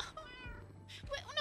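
A cat in the Minecraft video game gives a couple of short, close meows, with a brief rumbling purr between them, faint and quick.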